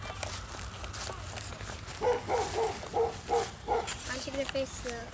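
A dog barks in a quick run of short yaps from about two seconds in, mid-distance in a busy indoor space with people's voices and movement underneath.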